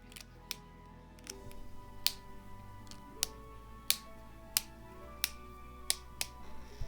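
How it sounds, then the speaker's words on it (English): Sharp, faint clicks from a clicky pen pressed repeatedly at an irregular pace, close and quiet over a soft background with no talking. "And clicky pin sounds because I can."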